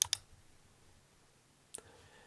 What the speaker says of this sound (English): Let's start by clicking on the exe file.